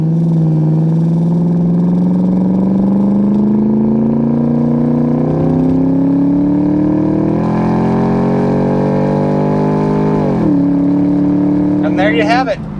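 A white 2003 Ford Mustang Mach 1 with the 4.6 V8 and automatic transmission accelerates hard on an open road, its engine note climbing steadily through long gears with a shift near the end, loud and close from inside.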